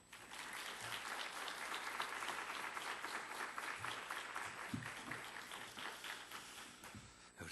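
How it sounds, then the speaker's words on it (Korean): A church revival congregation applauds to welcome a pastor, with sustained, even clapping from a sizeable crowd heard at moderate distance. "우리 박수로 환영하겠습니다."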